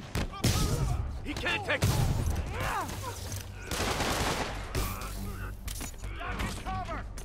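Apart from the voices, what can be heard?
gunfire in a video game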